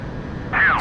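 Aircraft engine in the DCS World flight simulator, a steady low drone that swells into a louder rising and falling whine partway through.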